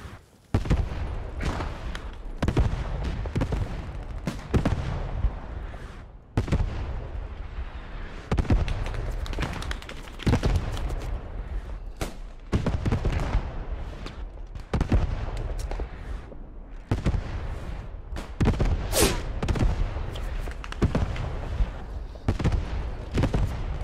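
Dense battle din from Post Scriptum on Utah Beach, a tank firing amid 50-versus-50 infantry gunfire, with rapid irregular bursts of shots and heavy booms packed together almost without pause, loud and continuous.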